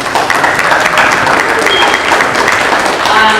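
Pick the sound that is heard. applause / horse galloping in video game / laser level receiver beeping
applause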